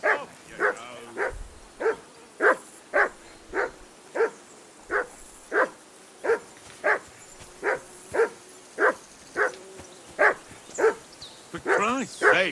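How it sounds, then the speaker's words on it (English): A dog in the video game Kingdom Come Deliverance II barks about twenty times in a steady, evenly spaced rhythm, loud and close, growing more rapid and excited at the very end. "Call off that damn dog"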